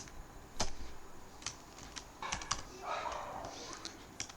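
Computer keyboard typing code for a pandas dataframe, scattered keystrokes in a few clusters, moderately close and fairly quiet, with no talk over it.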